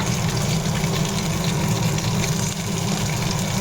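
Broth pours into a pot of papaya dal in a home kitchen, a steady, continuous liquid gush and splash heard up close without a break for a few seconds.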